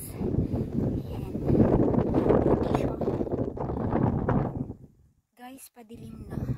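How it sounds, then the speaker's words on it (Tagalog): Heavy wind on a hiking trail in Hong Kong buffets the microphone in loud, gusty roars, dropping off briefly near the end before returning, with voices faintly audible. "Lakas ng hangin."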